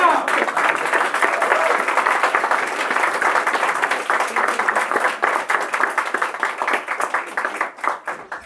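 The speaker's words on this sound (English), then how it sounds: "I think she deserves applause again." An audience at a college roundtable symposium bursts into applause, a loud full wash of clapping that gradually breaks into distinct individual claps as it fades out.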